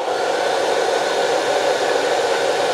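Hair dryer running off a portable Allpowers R4000 power station at around 2800 watts, blowing a steady, loud, even whoosh from start to finish with no talking.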